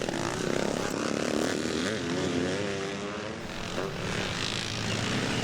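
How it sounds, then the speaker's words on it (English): Classic 500 BSA motocross bike racing around the Bennetts Hill track near Reading, its engine note rising and falling as it passes at mid-distance, with other racing motorcycles droning in the background. "He's absolutely flying around this Bennetts Hill racetrack on that 500 BSA bike, riding really well."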